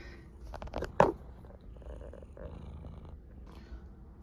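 A pet cat purring while sitting on a table, a low steady rumble close to the microphone, with a brief louder bump or snort partway through and no talking.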